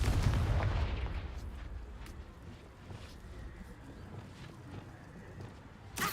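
A Confringo fire spell cast in Hogwarts Legacy explodes with a loud booming blast at the start, its rumble slowly dying into scattered crackles and debris, then a short thump at the very end.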